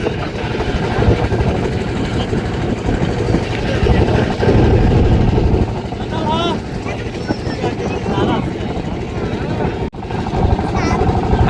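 A crowded passenger boat's engine drones steadily on the Jamuna river, a continuous loud rumble throughout with a brief dip near the end, while voices chatter faintly in the background.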